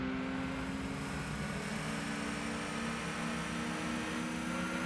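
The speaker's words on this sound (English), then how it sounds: "You can hear the turbo kick in on this car though" A car's turbo spools up while racing in Gran Turismo 2's simulation mode, a steady, loud engine drone with a high whistling whine sustained throughout, no voices.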